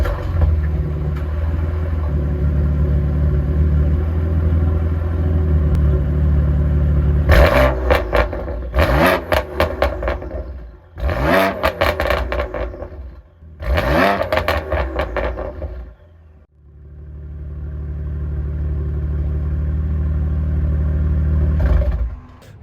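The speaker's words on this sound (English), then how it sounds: "after revving that thing a couple times, it does sound kind of nice" A BMW F80 M3 with a Remus exhaust idles with a deep rumbling exhaust, then revs sharply three times in quick bursts, dropping briefly silent before settling back to a steady idle.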